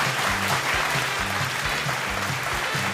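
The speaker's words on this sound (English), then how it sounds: "Let's give him a big round of applause" An awards-show audience applauds a winner, continuous crowd clapping and cheering throughout, with rhythmic low music beats pulsing underneath.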